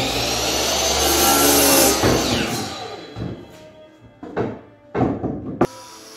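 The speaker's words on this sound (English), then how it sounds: "I cut up some 1x2s that would make up the frame of the table." A power saw whines loudly through 1x2 wood boards for a coffee table frame, then cuts out and gives way to several sharp knocks and thuds of the pieces being handled.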